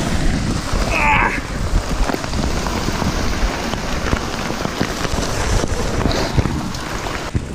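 Hail rattles down hard during a weekend fishing trip in Aveyron, France, a dense, steady patter of pellets striking surfaces close by, with a brief rustle over it.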